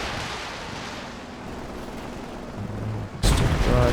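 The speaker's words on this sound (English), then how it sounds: "Barrage targeting the pack carrier." An artillery barrage lands in a Company of Heroes 2 two-versus-two match. Low rumbling battle noise builds, then a sudden loud blast of booming impacts hits near the end.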